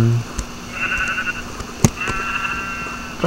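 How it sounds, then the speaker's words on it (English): Sheep bleat in a farm game, several wavering calls close by against a faint background, a few short knocks and a brief voice in between. "Speaking of sheep."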